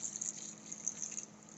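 Orange juice poured from a container into a cooking pan for cranberry sauce on a stove, a faint, steady liquid trickle with a thin hissing edge, continuous for the whole moment with no talking.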